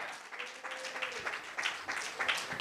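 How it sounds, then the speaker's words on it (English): A church congregation at a morning worship service claps along in steady, rhythmic bursts, the crowd filling the room while a voice speaks faintly beneath the clapping. "Come on and clap your hands."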